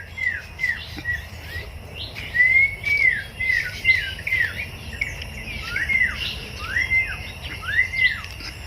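Several birds in a hillside eco-tourism forest near Perinthalmanna call in bright, repeated chirps and rising whistles, clear and moderately close over a low steady insect-like hum, with no talking.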